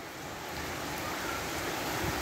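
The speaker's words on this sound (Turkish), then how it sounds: "O kadar güzel yağmur yağıyor ki." Rain falls steadily outside a shop in Bağcılar, Istanbul, a soft, even hiss with no pauses and no voices.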